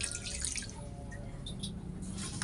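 A little water is poured over chicken pieces in a pot before boiling, a close, continuous splashing and dripping trickle without any talk.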